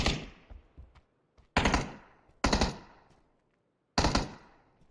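Decoy grenade in PUBG faking gunfire: four separate loud bursts of rapid shots, each decaying quickly, with short gaps of quiet between them.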